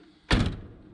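A car door on a 1965 Cadillac Sedan deVille swings shut with a single solid thunk, close and clear, then fades into a quiet ring.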